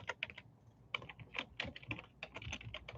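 Fingers type on a computer keyboard in quick, irregular bursts of soft clicks with short pauses between, fairly faint and close, with no talking.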